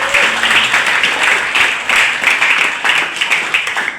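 Loud, close applause from a student audience at a school information session, with dense clapping that rises and falls in waves throughout.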